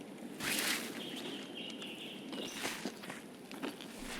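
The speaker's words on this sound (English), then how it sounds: "You sound heavy while running, each foot hitting the ground with a solid thump" Running footsteps from the shooter game Escape from Tarkov, a quiet series of irregular thuds over faint ambient gear rustle and a soft tonal background.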